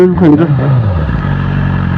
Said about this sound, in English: It's not meant to be revved like that, especially while standing still